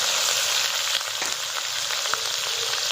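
Garlic paste frying in hot oil with cumin and bay leaf for a ghugni of yellow peas and mutton fat, a loud continuous close-up sizzle with a few faint clicks of a utensil.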